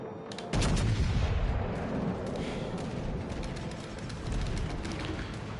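Warship guns firing in World of Warships: Legends: a heavy boom hits early, followed by a continuous roaring wash of battle noise with faint distant reports.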